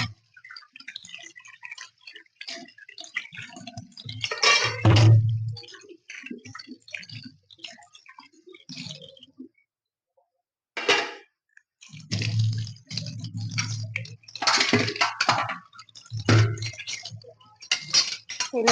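Dishes being rinsed under a running tap in a home kitchen: bursts of splashing water with clinks of cutlery and plates, stopping for a short silent gap partway through before starting again, close up with no talking.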